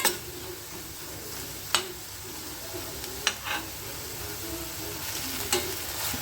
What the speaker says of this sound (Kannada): ಈರುಳ್ಳಿ ಟೊಮೊಟೊ ಚೆನ್ನಾಗಿ ಫ್ರೈ ಆಗಬೇಕು